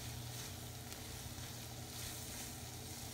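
Carrot barfi mixture roasting in a pan, a continuous quiet hiss and sizzle with no pauses.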